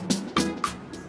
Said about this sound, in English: So bells sounds like this,